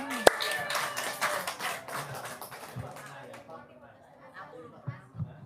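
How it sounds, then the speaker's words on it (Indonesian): An audience at a religious talk claps in a short burst that quickly tapers off into scattered claps, with murmured chatter and voices continuing underneath. "Tepuk tangan dong"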